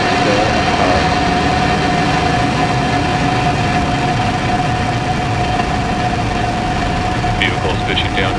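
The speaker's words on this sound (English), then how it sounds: "Ignition and liftoff." Falcon 9 rocket ignition and liftoff on the SES O3b mPOWER 7&8 launch: a steady, loud low roar of engines with broadband rumble and a constant tone throughout, with voice audible over it.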